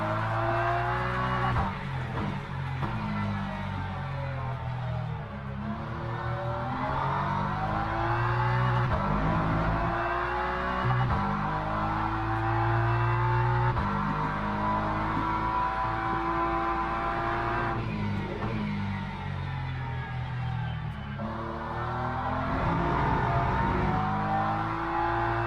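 Race car with a welded rear differential lapping in Le Mans Ultimate, engine droning steadily with shifting pitch, tires scrubbing and squealing through corners, close and continuous for the whole stretch.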